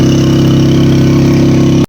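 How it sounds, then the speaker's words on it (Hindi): A motorbike runs on a mountain road near Pir Chanasi in Kashmir, its engine close and loud with a steady throbbing note that holds almost two seconds before cutting off abruptly. "ज़रा आमिर को समझाना पड़ता है कि आराम आराम से चलाओ बाइक"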